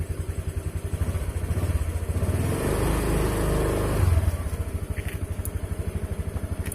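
A cold motorcycle engine idles at about 20°C, a steady, close, low rhythmic putter that holds throughout and swells slightly near the middle before settling back to an even idle.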